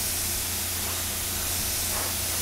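Clear coat is spray painted onto motorcycle parts from a Honda NS 250 restoration, a loud, close, steady hiss of spray that runs unbroken throughout with no talking.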